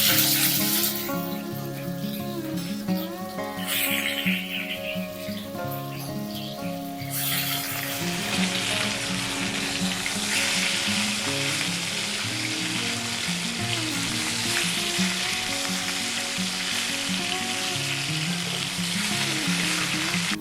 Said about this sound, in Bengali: এবার মাছগুলো ভাজা বসিয়ে দিই।